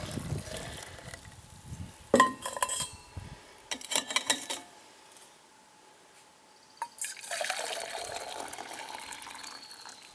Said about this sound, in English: I want to put some air back into it so it doesn't have that distilled kind of water taste to it